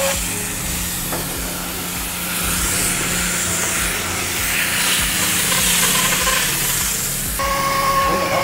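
A foam cannon sprays car shampoo in a continuous, loud hissing rush that lasts the full eight seconds. The spray swells slightly midway, with a low mechanical rumble beneath it.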